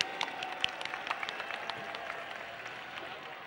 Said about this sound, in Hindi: जरा जोर से ताली।